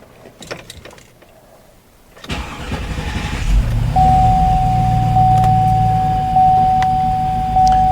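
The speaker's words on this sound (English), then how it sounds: "I'm gonna start the engine" GMC Yukon engine cranking to life after a couple of seconds of quiet, catching abruptly and settling into a steady, close idle with a faint high whine running through it.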